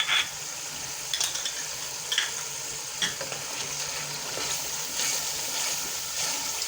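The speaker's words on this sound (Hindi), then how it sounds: "इसको साथ इसके हम अच्छी तरह से भूनते जाएंगे।" Beef karahi frying in a pan with unwhisked yogurt just added, a soft continuous sizzle with occasional stirring scrapes, quiet and close, no voices.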